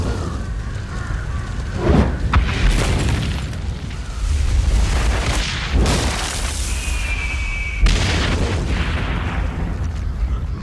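Explosive booms and crashing debris as the wooden upper structure of a Borgia tower is destroyed in the video game Assassin's Creed Brotherhood, with several loud blasts at intervals over a continuous rumbling game soundtrack.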